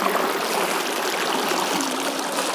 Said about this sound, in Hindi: ये पानी आ रहा है इधर से, इधर की साइड से ये पानी आ रहा है